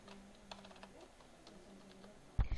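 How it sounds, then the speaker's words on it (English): A computer keyboard being typed on while a word is entered in an MS-PowerPoint presentation, a few soft, scattered key clicks at close range in a quiet room, ending with a louder thump. "So I am going to type introduction, or I am going to type computer."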